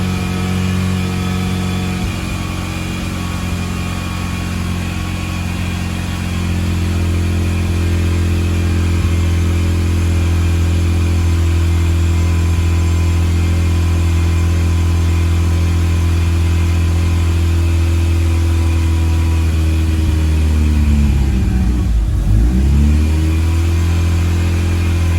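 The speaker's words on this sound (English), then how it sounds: "jump start it, and see if it starts." A Mitsubishi Lancer Evolution 8/9 engine, jump-started during a fuel pump install, runs with a steady loud idle throughout, then surges briefly in a sharp rev near the end before settling again.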